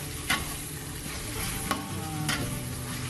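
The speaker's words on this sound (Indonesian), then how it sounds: "Kita tumis dia sampai harum semerbak sepanjang" Bay leaves are stirred and sautéed in a hot pan while cooking crab in coconut milk, giving a steady sizzle with a few sharp scraping stirs of the utensil, close and clear.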